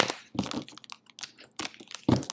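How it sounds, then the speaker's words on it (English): A deck of message cards is shuffled by hand, giving several quick crisp riffling bursts with short pauses between them, close and fairly quiet, with no talking. "Let me give these a good shuffle."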